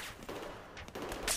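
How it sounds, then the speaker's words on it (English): Enemy gunfire in Battlefield 4, a rapid burst of shots at mid distance over a steady battlefield din, with one sharper crack standing out near the end. "there's another person shooting"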